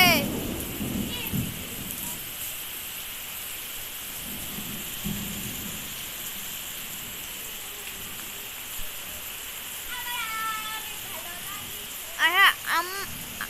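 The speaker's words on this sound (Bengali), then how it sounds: "এই দেখেন কিরকম বৃষ্টি হচ্ছে।" Heavy rain pours steadily during a storm in Muragachha, Bogura, with deep thunder rumbling through the downpour and a few higher chirps and whistles near the end.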